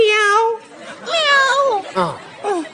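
Someone imitates a cat with a series of drawn-out, wavering meows, three or four close calls in a row, loud and near, in a playful comedic setting.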